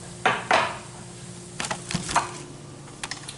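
Shrimp going into a pan for Cajun pasta, a handful of soft clatters and knocks against cookware, faint and sporadic in a quiet kitchen with no talking.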